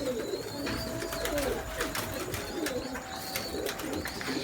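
Teddy and Ferozpuri breed pigeons coo softly inside a coop, with low repeated coos and occasional faint chirps over a dense, steady background hum, moderately close and unaccompanied by speech.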